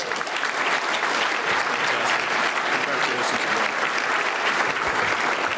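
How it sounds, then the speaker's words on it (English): Steady, dense audience applause at a chamber of commerce annual gala honoring a three-term former city mayor, a broad wash of many hands clapping close and loud throughout with no gaps. "One more big round of applause for the man who served as mayor of this city for three terms."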